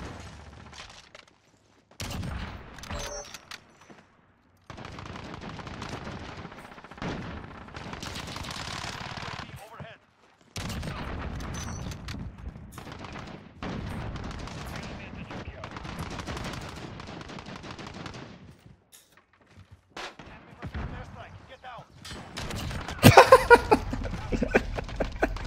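Rapid automatic gunfire from a first-person shooter video game comes in long loud bursts separated by brief silences, with heavier impacts near the end.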